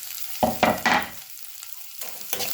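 Onions frying in a pan with Nepali timur spice and chilli for matar paneer, a few bursts of stirring and sizzling separated by quieter gaps.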